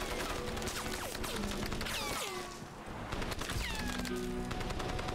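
Continuous gunfire in Crysis on the hardest difficulty, rapid overlapping shots with whining ricochet-like tones throughout, steady and fairly distant in level.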